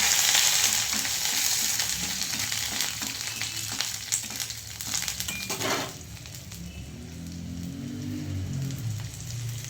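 Garlic sizzles and crackles in a hot pan, loud at first and then easing. A scrape of stirring comes midway, followed by a softer bubbling fry.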